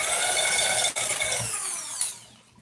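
Small magnetic gear spinning fast on rough, worn bearings, giving a steady close grinding whir with a brief dip near one second and a slow fade toward the end.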